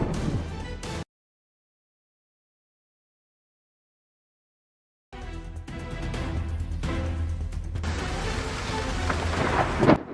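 Thunder during a lightning storm with a rainbow in the sky: a loud rumbling roar over heavy rain, cut off by several seconds of total silence, then a steady downpour that builds into a closer, harsher crash.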